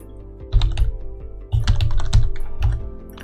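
Close, fast bursts of typing on a computer keyboard, three quick clusters of key clacks with a firmer key press among them, and no talk.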